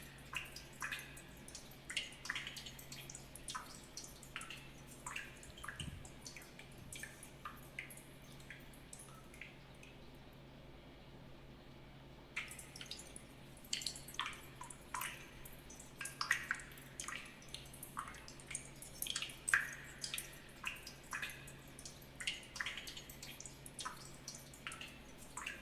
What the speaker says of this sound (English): So now you got poo water dripping on your head.